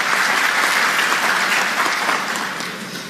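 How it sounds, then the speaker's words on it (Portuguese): Dense audience applause for a speaker at a financial education event, steady and full from a crowd, slowly fading toward the end. "Doutora, uma salva de palmas"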